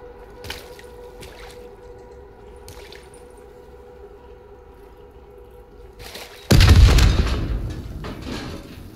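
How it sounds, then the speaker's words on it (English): A sudden heavy explosion erupts in the Call of Duty Black Ops 3 campaign, a loud deep boom and rumbling debris that decays over a couple of seconds after a quiet stretch of ambient noise and faint thumps. "The explosion blocked our path."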